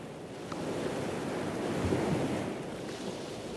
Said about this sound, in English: So that is the sound of ocean